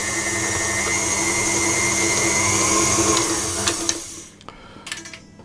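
An electric mixer whirs loudly and steadily as it beats cookie dough with vanilla extract, then cuts off near the end, leaving a few clicks and clatters.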